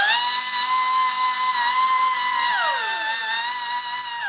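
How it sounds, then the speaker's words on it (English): A small grinder rounds off a piece of metal for a homemade chainsaw bench vise, giving a loud, steady, high whine that slides down in pitch near the end as it slows. "we're gonna take our little grinder and kind of round it in"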